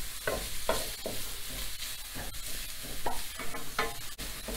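Chopped carrots sauté and sizzle in a pan, with repeated stirring scrapes and clatters in an uneven rhythm, fairly quiet, no talking.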